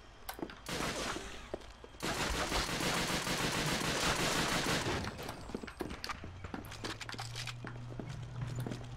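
Gunfire in Call of Duty: Finest Hour on PS2, Western Front: scattered single shots, then a long loud sustained burst of machine gun fire, followed by more sporadic shots and footsteps against a low engine-like drone.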